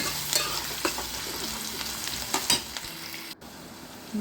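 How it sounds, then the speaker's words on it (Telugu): Omelette curry sizzles steadily in a pan while a spatula stirs and scrapes it, with occasional louder clinks against the metal, close and moderately loud, no voices. "వేగనివ్వాలి కలుపుకోవాలి బాగా కలుపుతూ ఉండాలి"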